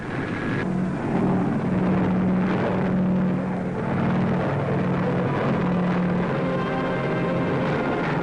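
A WWII transport plane flying low over the sea, heard in an old newsreel as a loud, steady droning engine roar with a throbbing low hum, continuous throughout and no talk.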